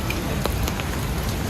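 Heavy rain pours steadily in Fort Canning Park, Singapore, a dense, continuous hiss of drops striking surfaces that stays loud and even throughout, with no voices over it.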